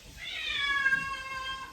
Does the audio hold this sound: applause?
no